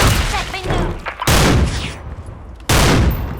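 Barrett Siege sniper rifle in the online shooter SF2 (Special Force 2) fires in heavy, booming broadband blasts, with loud shots near 1.3 and 2.7 seconds amid continuous battlefield noise.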